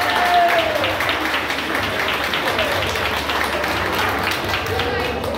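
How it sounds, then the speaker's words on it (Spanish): Crowd applause at a live chamamé concert, a steady wash of clapping and cheering heard at a distance, with a voice over a sound system partly above it. "Fuerte, fuerte el aplauso."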